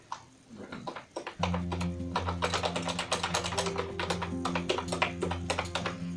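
Steady clacky typing on a cute colored typewriter-style keyboard, fast and close with distinct key strikes throughout, over a constant low electrical hum.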